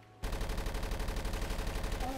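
Rapid gunfire from a soldier's weapon in the Avatar video game, a dense continuous burst of evenly spaced shots that starts abruptly and runs loud throughout, with a faint tonal chirp near the end.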